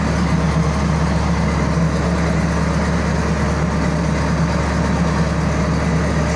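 Tractor engine running steadily at idle, a loud, continuous low rumble with a constant drone and no talking.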